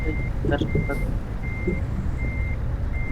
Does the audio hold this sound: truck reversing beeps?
yes